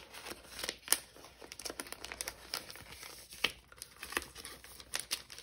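Paper for art journaling and scrapbooking crumpled and handled close up, a continuous run of crisp crinkles and rustles with irregular louder bursts, no voice over it.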